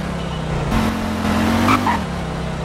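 A car speeding in a Roblox GTA-style game, a steady engine drone that rises in pitch as it accelerates, with a brief tire-squeal-like whine near the end, continuous and fairly loud.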